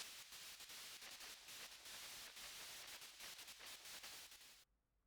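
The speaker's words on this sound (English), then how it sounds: "White noise on the screen will signal the start of battle." Loud hissing static white noise from the .hack//Outbreak video game signals the start of a battle, then cuts off abruptly near the end.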